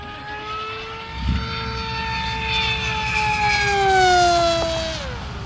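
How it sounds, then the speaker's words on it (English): An RC model airplane's electric motor spins a 7x8 propeller that slightly bogs it, producing a loud, steady whine whose pitch holds and then sags near the end, with no talking. "that 7x8 prop, it seems to kind of bog the motor a little too"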